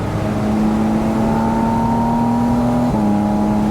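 A Porsche GT4 RS or Spyder RS pulls hard from inside the cabin, its engine note climbing steadily before a quick gear change drops the pitch and the rise starts again.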